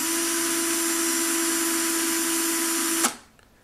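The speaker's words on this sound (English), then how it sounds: "Now let's take a look at the drill spins a bit to see if it has any wobble." A Makita 12V 3/8-inch FD02W cordless drill spins a tiny 1/16-inch bit with a steady, loud, high motor whine that cuts off abruptly near the end, leaving near silence.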